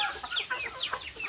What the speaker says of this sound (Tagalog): pinalabas na lang muna natin yung mga manok